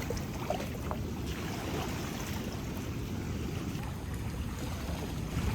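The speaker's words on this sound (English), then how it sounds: "I could see some waves coming in, which means that we have made it to the Pacific." Pacific sea waves come in on a mangrove-lined beach, a steady, fairly loud rush of surf and wind that continues without pause and with no voices.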